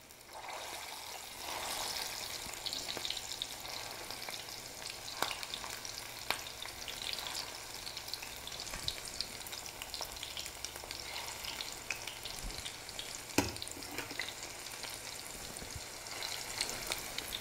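Food sizzles steadily in a hot pan while it is stirred, with occasional scraping clicks of the utensil over a constant frying hiss, close and fairly quiet.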